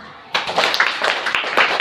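Schoolchildren applaud together in a classroom, a dense burst of clapping that starts abruptly and carries on evenly for about a second and a half before cutting off.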